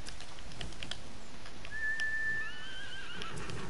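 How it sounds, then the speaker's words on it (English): A horse in the video game Ghost of Tsushima whinnies in a clear, rising call over a quiet ambient background, with only faint hoof sounds around it. "Shut up, I have a horse."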